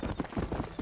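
Horse hooves clip-clop in Red Dead Redemption, a steady rhythmic trot with about five close, fairly loud footfall beats in under a second, and no talking over it.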